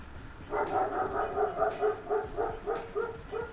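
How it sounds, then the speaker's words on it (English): Several dogs bark in a steady run of repeated bow-wow barks at moderate distance, indoors, with no talking over them. "No, they don't know what they're barking at."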